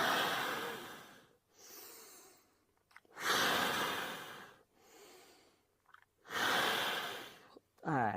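Deep, forceful breaths during a breathing exercise, long exhalations blown out through the mouth, each lasting a second or two, repeating in strong close bursts with short quiet pauses between.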